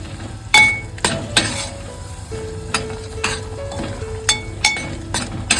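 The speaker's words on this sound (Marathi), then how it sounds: "हा मसाला भाजून घ्यायचा आहे व्यवस्थित." Home-ground turmeric masala roasts in a pan for a crab curry, sizzling steadily while a spoon stirs and scrapes with repeated sharp metallic clinks.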